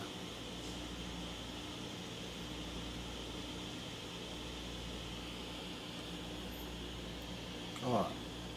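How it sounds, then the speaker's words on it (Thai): A Surface Pro 4 tablet's cooling fan whirs as a faint, steady hiss of airflow that runs unchanged throughout, with a brief soft knock near the end. "น่าสนใจมากครับเสียงของพัดลม ของตัวนี้นะครับ"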